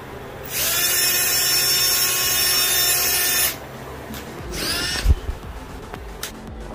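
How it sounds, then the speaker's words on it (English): A power drill whines loudly for about three seconds while drilling holes for a mirror door installation, then stops, followed by a brief second burst and some clunking handling noises. "with a drill, we just made a 3 hole"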